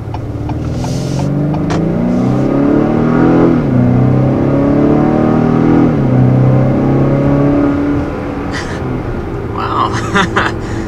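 A 2020 Acura RDX accelerates hard in Sport Plus mode, the engine note climbing through gear changes with a loud cabin drone, then easing off while a voice talks over it.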